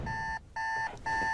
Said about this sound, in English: That alarm that you just heard there.